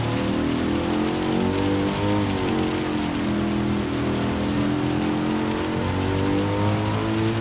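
Rain in the racing game Gran Turismo 7, a loud, constant wash of rain hitting surfaces, with a car engine droning underneath throughout.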